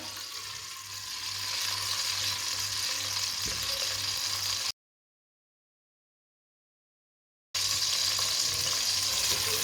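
Finely chopped onion fries in a cup of oil, giving a steady close sizzling hiss with a faint stir, cut by a few seconds of total silence before the frying resumes.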